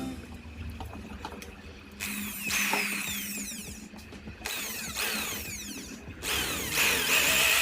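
A power drill whines as it bores a pilot hole into hard wood, its pitch sweeping with each push, in several sustained bursts with short pauses.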